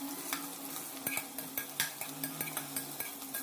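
Ginger garlic paste and turmeric fry in a pan while a utensil stirs and scrapes in steady repeated strokes over a continuous close sizzle.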